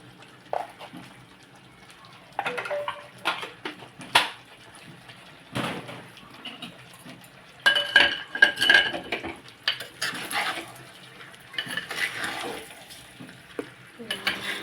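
A spoon stirs spiced potato pulusu with chilli powder in a pan, giving intermittent metallic clinks and scrapes in scattered bursts over a quiet background, some moments louder and busier than others.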